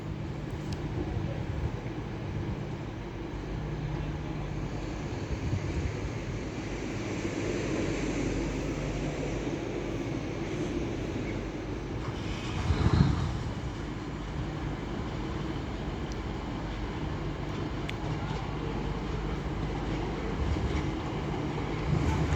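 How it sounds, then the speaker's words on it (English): An LNER Azuma train running from Edinburgh Waverley to London King's Cross arrives at Doncaster station on the East Coast Main Line, with a steady rumble of engines and wheels that rises to a brief louder surge midway, then settles. "The next train to be coming in will be another Linear Azuma running from Edinburgh Waverley to London King's Cross."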